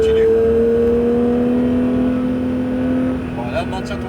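A Porsche 911 GT3 on a race circuit, its engine holding a loud, steady high-revving tone that eases slightly near the end, with a voice talking over it.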